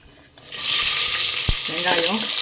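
Onion, curry leaves and garlic hit hot oil with dried chillies and burst into a loud, sudden sizzle that holds steady, with one dull knock partway through.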